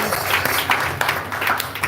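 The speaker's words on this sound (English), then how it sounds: "Let's give them a huge round of applause." Audience at a devotional gathering applauds two speakers, a dense patter of many hands clapping close and steady, without pauses.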